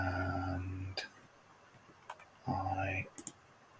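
A few crisp computer mouse clicks land during a SolidWorks drafting session, isolated taps between stretches of someone speaking nearby.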